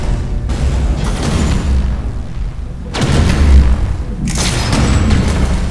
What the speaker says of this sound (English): That missile will definitely finish them.